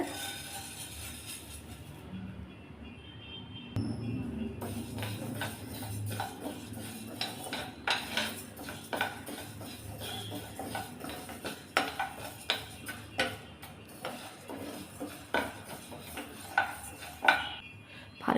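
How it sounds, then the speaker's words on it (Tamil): Moong dal dry roasting in a pan, heard as a close, busy rattle of grains stirred and scraped with a metal spoon, with irregular clinks growing more frequent toward the end, no talk. "இப்போ இதை வந்து நல్லా கலர் மாறாமல் கொஞ்சம் வாசனை வர அளவுக்கு நல்லா வறுத்து எடுத்துக்கலாங்க"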